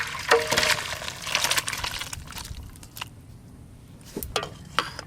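Thin goat-meat and potato curry with garam masala is poured into a cooking pot. Splashy liquid pours and trickles come in short bursts, close by, with small clinks between them.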